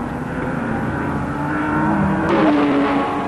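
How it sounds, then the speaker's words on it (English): Ferrari race cars, among them Ferrari number 17, running at the 1961 24 Hours of Le Mans, with a steady engine drone that rises into a louder, higher whine near the end, heard at a moderate distance with no talking. "the Rodriguez brothers in Ferrari 17 are carving away their lead"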